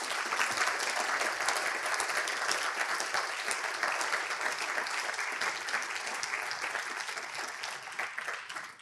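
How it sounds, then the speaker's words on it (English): Sustained audience applause for a panel at a sustainable food event, dense steady clapping across the whole stretch that fades slightly near the end. "Please join me in giving them a round of applause."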